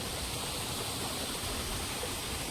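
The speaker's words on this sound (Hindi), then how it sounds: "आगे जो है वहाँ से पानी आ रहा है" Water flows steadily through a dense forest at the Brahma Kund source of the Mandakini river near Sarbhang Rishi's ashram in Satna, a continuous broadband rush with no breaks and no voices.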